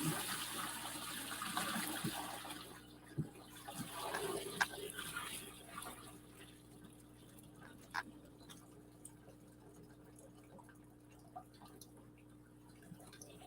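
Water is poured out of a container of sand with a faint, rushing splash that fades into scattered drips and trickles. The sound is soft and fairly close, and no one talks.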